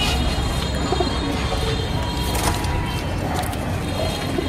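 Female and baby pigeons coo softly amid a dense, noisy background of rustling and chatter, with faint chirps scattered through.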